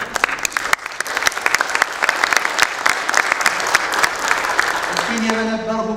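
An audience claps in a dense, steady round of applause that stays level for several seconds, then a voice begins speaking as the clapping tapers near the end.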